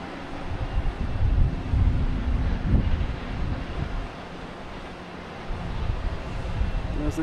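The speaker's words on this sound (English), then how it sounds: "Oh wow, JetBlue's just cranking. He's not waiting, he's just going and going and going. All right, we have JetBlue taking off" A JetBlue airliner takes off at Boston Logan Airport, its engines producing a broad, heavy roar that swells and then holds as a sustained rumble, heard from some distance outdoors.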